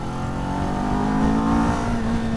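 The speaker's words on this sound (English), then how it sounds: "this is a parallel twin 399cc engine. And it has some real pep to it" A 2023 Kawasaki Z400 399cc parallel-twin motorcycle engine revs loud and close, a steady buzzing drone that rises slightly and holds throughout.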